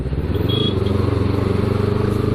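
A motorbike rides along at night with a steady, close engine drone and low rumble, plus light rattling clatter, continuous throughout.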